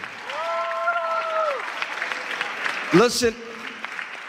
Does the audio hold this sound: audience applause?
yes